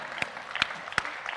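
A few scattered claps ring out from a lecture audience, sparse and distinct rather than a full ovation, with several separate hand claps spaced across a short moment in the hall.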